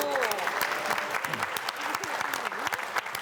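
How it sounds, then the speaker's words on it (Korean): An audience in a lecture hall breaks into dense, loud, steady applause during a talk, with a voice faintly mixed in beneath the clapping. "박수 한번 쳐주십시오."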